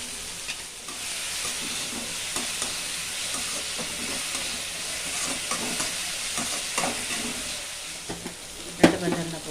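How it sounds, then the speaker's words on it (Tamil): Onions and tomatoes with curry leaves sauté in a pan for a chicken curry, giving a steady close sizzle with occasional stirring scrapes and a sharp clatter near the end. "வெங்காயம் தக்காளி நல்லா வதங்கட்டும்"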